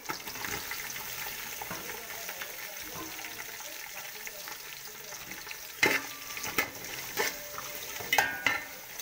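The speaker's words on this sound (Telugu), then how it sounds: "బాగా వేపుకోవాలండి, ఎర్రగా రావాలి." Onions fry in a pan with green chillies for prawn biryani, a continuous close sizzle broken near the end by several loud clattering stirs of a spoon against the pan.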